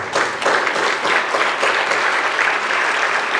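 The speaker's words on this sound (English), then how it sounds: "Round of applause." A round of applause at a high school distinguished alumni ceremony, a full, continuous wash of crowd clapping, loud and close throughout with no voices over it.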